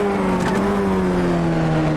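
A Formula Ford race car engine in iRacing holds a steady high drone with a faint pitch shift as it runs on track, loud and continuous with no talk over it.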